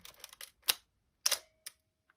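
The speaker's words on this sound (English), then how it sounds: "Here's shutter button," An Olympus OM-1 film camera's mechanical shutter fires repeatedly, several crisp sharp clacks spaced irregularly with small handling clicks between, close and alone in a quiet room.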